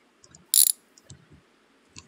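Ratchet on the last bolt holding a transmission in a garage, a single loud sharp metallic burst followed by faint scattered clicks and small knocks.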